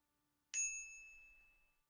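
A single bright notification ding, struck once and ringing out cleanly for over a second before fading, alone against near silence.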